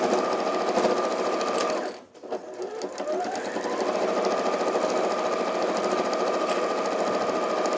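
A sewing machine runs fast while reverse stitching through thick layers of fabric, a steady loud mechanical whirr that briefly drops out and stops near the middle, then resumes at a constant driving pace.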